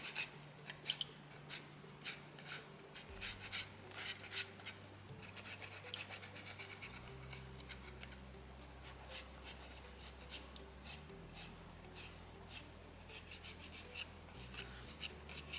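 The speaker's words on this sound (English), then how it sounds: "Using more just the flat edge of the rasp to really kind of refine the bottom of the neckline" Steel rasp filing a soapstone owl carving, shaping the bottom of the neckline with the flat edge: steady close scraping strokes in a continuous rhythm, alone without talk.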